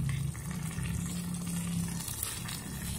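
Pot of ginataang gulay with santol, vegetables in coconut milk, simmering on the stove, giving a soft bubbling and faint sizzling hiss that stays low and steady throughout.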